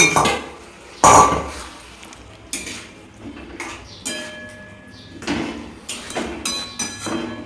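Water and fried tofu go into a cooking pan for chilli tofu, with loud clinks and clatters of utensils and pan, a sharp splash-like burst, and scattered knocks throughout.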